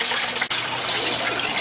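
Water drains rapidly out of an aquaponics grow bed in a steady, loud, close rushing gush that continues throughout with no talking.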